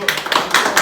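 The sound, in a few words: applause for an eliminated contestant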